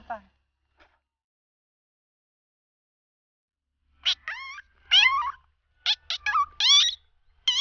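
A person mimics a parrot's squawking chatter with a burst of quick, sharp, high-pitched calls in close succession, heard near and alone after a short opening sound.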